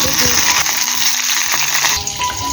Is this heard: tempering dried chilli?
yes